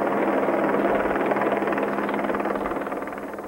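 A military police helicopter flies overhead at night with a steady, loud, thudding rotor drone that holds close and constant throughout, slightly fading toward the end, with no voices.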